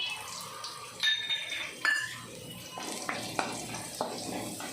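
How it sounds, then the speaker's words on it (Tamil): Garlic sautés lightly in a pan for a masala pori snack, giving a soft, steady crackle with a few sharp clicks and scrapes as it is stirred. No voices are heard. "பூண்டு நல்லா செவக்கிற மாதிரி லைட்டாக வதக்கிக்கலாம்"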